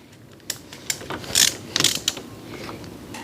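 A ratchet wrench loosening a 12 mm bolt on a Quadracer ATV front hub: a few sharp clicks, then a bright burst of rapid ratcheting, close and alone.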